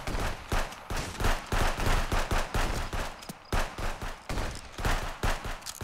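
Rapid automatic gunfire from a police video game rattles on in continuous loud bursts, with shots packed closely together and only short pauses.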